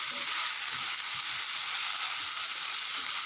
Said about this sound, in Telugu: పుదీనా టమోటాలు వేగడం కొద్దిగా టైం పడుతుంది